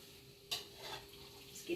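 A spatula scrapes and stirs in a pan while snapper fish floss fries. The sizzling is quiet and steady, with a brief clatter near the start and no talking.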